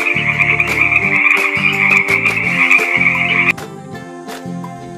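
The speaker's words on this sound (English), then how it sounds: "F for frog." Frogs croak loudly and continuously in rhythmic, buzzing pulses, with a high trilling chorus above that drops away partway through.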